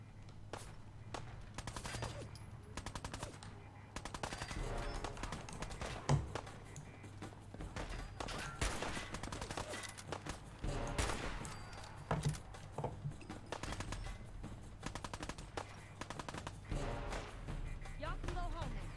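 Rapid bursts of automatic gunfire from the video game Fallout 4 rattle on and off throughout, mixed with game music and effects, while people talk over the shooting.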